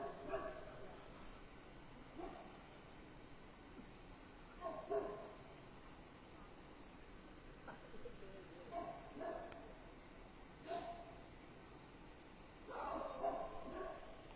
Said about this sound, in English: A lot of dogs barking.